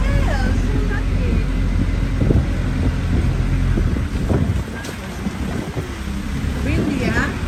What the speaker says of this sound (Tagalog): Windy, huh? Windy.